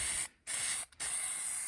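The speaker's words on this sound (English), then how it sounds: "So always spray outdoors" Aerosol spray paint can hissing onto model terrain outdoors in two bursts, a long spray followed by a shorter one after a brief pause, close and steady.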